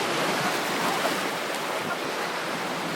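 Waves wash in steadily on an Ibiza beach at high tide, a broad continuous roar of surf with wind buffeting the microphone, loud and unbroken.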